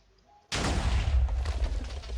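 A homemade cannon set to maximum power fires once after a brief quiet lead-in, an abrupt loud boom followed by a rumbling, crackling decay.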